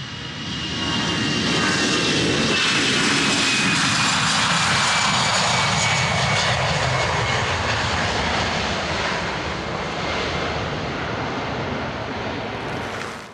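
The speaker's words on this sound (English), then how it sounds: "if we observe a jet engine in action, we'll see how there's no pulses or vibrations" A jet engine roars steadily and loudly, a smooth continuous rush with a thin high whine, fading slightly toward the end without any pulsing.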